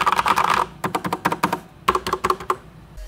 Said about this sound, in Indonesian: Corsair K63 menggunakan tipe Cherry MX Red.